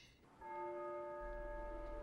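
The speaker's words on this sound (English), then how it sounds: "That's the bell. Yeah, the clock tower." A clock tower bell rings once with a long sustained tone, bright overtones humming steadily and slowly fading, set in a quiet fairy-tale town scene.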